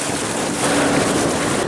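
Steady broadband engine drone of a fishing boat's outboard motor running out on a northern Wisconsin lake, with wind rushing over the microphone and water noise, continuous and fairly loud with no voices.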